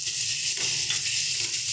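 Mutton liver dropped into hot oil and spice masala, giving a steady, close, bright sizzle and hiss that runs continuously throughout.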